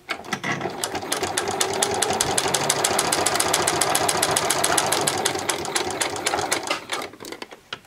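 A sewing machine stitches straight across the front of a pair of jeans, a fast, even needle rhythm that starts, runs steadily loud and close for several seconds, then slows and stops, with no talking.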